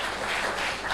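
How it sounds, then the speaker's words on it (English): Audience applause at an applied mathematics and statistics conference: about a second of continuous, dense clapping at a steady level. "Let's give a round of applause for"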